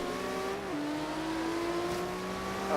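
Racing car engines in Forza Horizon 3 hold a steady, moderately loud drone whose pitch steps up as a gear changes partway through, with no talking.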